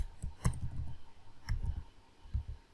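Keys clatter on a computer keyboard while a Debian package command is entered on Kali Linux, a few quick clicks in small bursts, close and fairly quiet.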